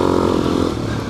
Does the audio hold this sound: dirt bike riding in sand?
yes